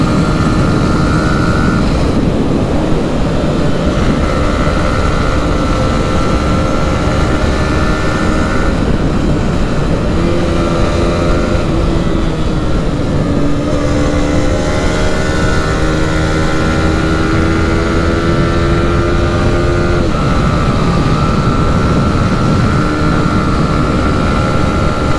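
A Yamaha R15 V4 motorcycle is ridden hard, its engine note rising through the gears under steady loud wind rush, close and continuous with no talk.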